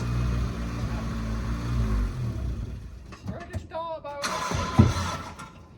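A rare four-door Suzuki Swift saloon engine turns over on its starter motor with a low, steady churning rumble, then voices talk close by over brief clunks and noise.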